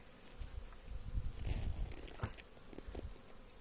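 Honey bees buzz around hives in a busy swarm, droning hums rising and fading as individual insects fly past close to the microphone.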